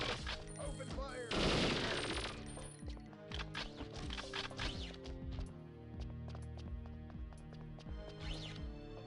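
Gunfire in the video game Perfect Dark, dense bursts of shots and impacts layered over game music and effects, with a loud cluster early on and scattered sharp cracks continuing throughout.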